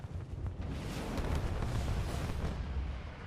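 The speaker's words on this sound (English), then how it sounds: "Isabel, launch Archer missiles now." Archer missiles launch in the video game Halo Wars 2, a dense, booming roar of rapid blasts and rumbling explosions that stays loud for several seconds before tailing off slightly.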